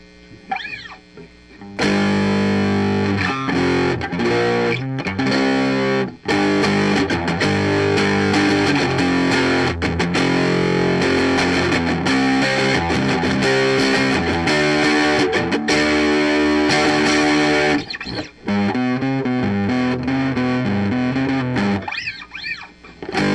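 Heavily distorted electric guitar through a modded First Act DS-1 clone distortion pedal, playing loud, crunchy chords and riffs with a gritty, saturated tone, sustained nearly throughout with a brief break near the end.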